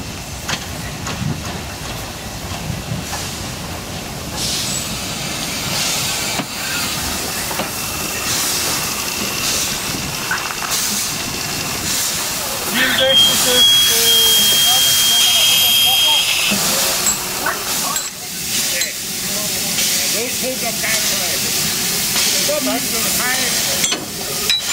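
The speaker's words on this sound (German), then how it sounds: "Der Zug aus dem Selketal fährt ein." A narrow-gauge Selketalbahn steam train of the Harz railway pulls into a station, a continuous broad hiss of escaping steam swelling midway, with a brief high whistle-like tone and a voice talking over it.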